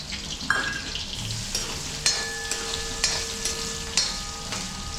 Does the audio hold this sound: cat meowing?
no